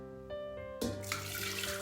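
Water pours into a pot for making snow pear water with rock candy, a sudden splashing rush that starts partway in and continues over a steady background hum.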